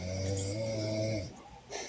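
Loud, close snoring with a deep droning rasp that holds steady for over a second, then breaks off into quieter breathing.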